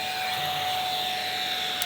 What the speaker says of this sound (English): Oh, it's a desktop vacuum cleaner.